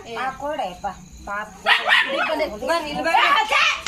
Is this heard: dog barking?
yes